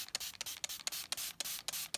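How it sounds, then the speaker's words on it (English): A handheld spray bottle mists water onto quilting fabric ahead of ironing, giving about eight short, close hissing bursts at a steady rhythm with no talking. "So I take my bottle of spray here, and all I do is just spray it."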